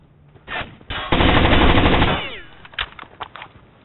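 Gunfire from the shooter game Rainbow Six Vegas 2: a burst of loud automatic fire, then scattered single shots and short bursts, close and harsh, with no talk.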